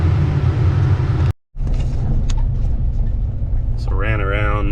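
Heavy earthmoving machinery, a dozer and an excavator, rumbles steadily while working a dirt pit, a loud continuous low engine drone with a brief cutout and a rising whine near the end.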